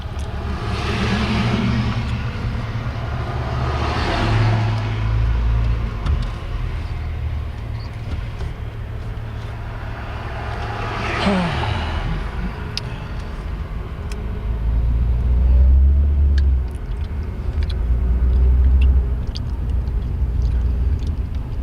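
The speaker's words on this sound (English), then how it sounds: "we're going to let some vehicles go by us now" Vehicles pass by on an eastbound road with a cracked, damaged surface, several swelling and fading engine and tyre rumbles over a steady roadside background, with no talk.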